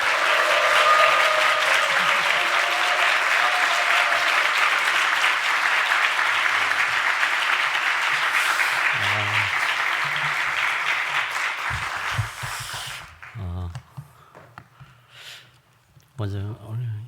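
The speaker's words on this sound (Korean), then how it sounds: "큰 함성과 우리와 같은 박수로 우리 환영하도록 하겠습니다." A church congregation welcomes its pastor with loud sustained clapping and cheering for about twelve seconds, which then cuts off abruptly into quieter moments with someone speaking.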